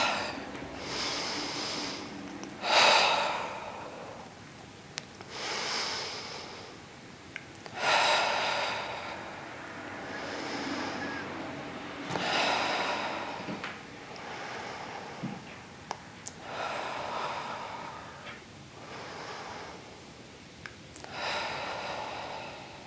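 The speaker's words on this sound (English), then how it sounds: "In through the nose, out through our mouth with a breath." Slow, audible breaths in through the nose and out through the mouth during a Pilates reformer workout, repeating in long even cycles of airy inhales and exhales, close and clear.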